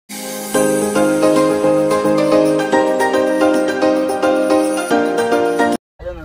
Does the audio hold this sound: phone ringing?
yes